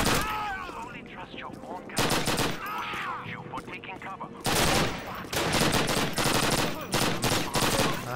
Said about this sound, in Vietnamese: Súng này bắn khá là nhanh luôn á.